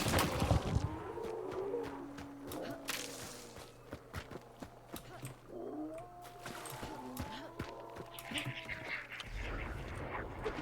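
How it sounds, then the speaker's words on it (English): Ducks quack in a Hunt: Showdown match, rising as a busy flock with honking, nasal calls over a steady low ambient hum and scattered footsteps, fairly close and moderately loud throughout. "Don't activate the ducks,"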